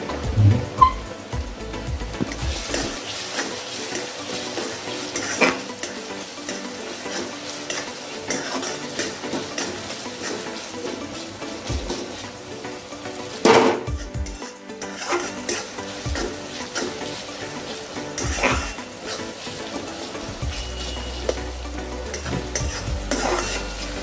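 Onions with a pinch of salt frying in a generous amount of oil in a pan for a Maharashtrian wild vegetable dish, giving a steady close sizzle broken by repeated scrapes and clinks of a spoon stirring, with no talking.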